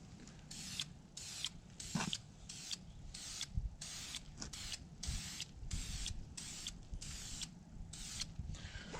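An aerosol can sprays clear coat onto a sanded car headlight in repeated short bursts with brief pauses between them, set against a low background rumble.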